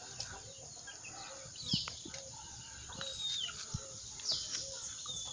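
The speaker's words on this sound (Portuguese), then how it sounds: "tem muitas galinhas" Chickens, including a hen with young chicks, roam a backyard, giving scattered clucks and short high calls at moderate distance over quiet outdoor background.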